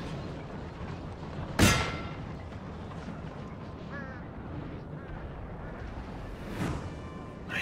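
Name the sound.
artillery barrage in video game Napoleon Total War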